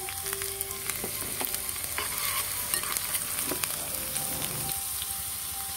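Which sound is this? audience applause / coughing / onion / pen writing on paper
onion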